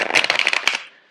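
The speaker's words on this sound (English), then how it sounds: "I'm going to shuffle the cards out for you." A quick riffle of tarot cards shuffled close up, a rapid burst of crisp flutters ending in a soft tap and fading to quiet.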